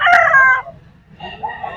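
A rooster crows once up close, loud and bright, followed by softer clucking from chickens in a farmyard.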